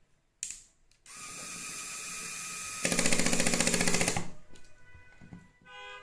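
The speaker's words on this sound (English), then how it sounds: "And here we have a slip clutch screwdriver here. So when the screw is tightened, it will not stop until you release the trigger." A slip clutch screwdriver drives a screw, a steady whirring motor with a rapid ratcheting clatter from the slipping clutch that grows louder midway, then cuts off when the trigger is released, close and alone with no talk.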